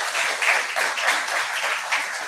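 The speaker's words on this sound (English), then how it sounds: "A clap for her parents." A roomful of people applaud for a student's parents at an MBA induction session, a dense, even burst of clapping that holds steady for a couple of seconds.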